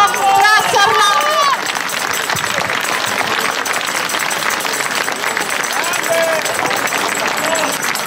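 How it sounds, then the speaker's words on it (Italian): A crowd at an outdoor public event in Modena applauds in a steady, dense wash, with a voice and crowd chatter over the clapping at the start. "Facciamogli un applauso."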